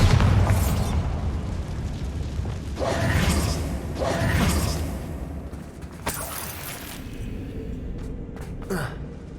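Bombarda spell blasts in Hogwarts Legacy: several loud booming explosions burst in succession, each with a heavy low rumble and crackling debris, ending in smaller sharp pops.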